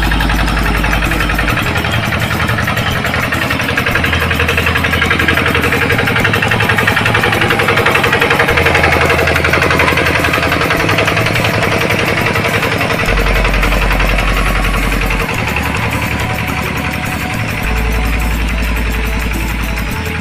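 A loud, chugging tractor engine runs steadily throughout while ploughing a wet rice paddy, rattling and vibrating close by with a rough, pulsing drone.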